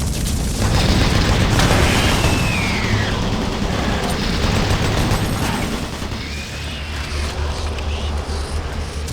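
Automated turret guns in Doom 3 BFG Edition fire loud, dense, continuous bursts with booming low rumble, running steadily throughout with only a slight drop in intensity near the end.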